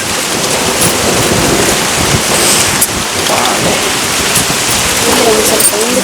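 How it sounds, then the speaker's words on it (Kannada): Strong wind roars steadily outdoors in a village with a broad rushing noise, loud and close. "ಗಾಳಿ ಗಾಳಿ ನೋಡಿ ಹೆಂಗೆ ಬೀಸ್ತಾ ಐತೆ"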